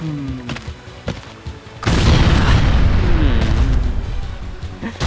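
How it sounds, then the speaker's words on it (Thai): A heavy, booming explosion erupts and rumbles for several seconds in Kamen Rider Super Climax Heroes on Wii, preceded by scattered clicks and short impacts from game action. "เสียงระเบิดมันแบบสะใจ"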